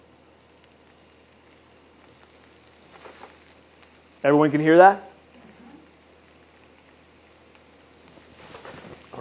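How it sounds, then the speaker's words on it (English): Faint sizzling and frying crackle of diced red onion in a hot pan runs quietly throughout, with a brief spoken question rising over it midway. "It's going to be hot enough. Sizzle."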